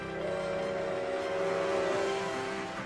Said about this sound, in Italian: No, è il fischio di un treno.